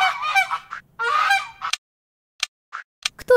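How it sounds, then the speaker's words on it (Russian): A goose gives a few loud, close honks, then several short, sharp calls after a brief pause. "Покажи гуся. У него длинная шея и толстый клюв."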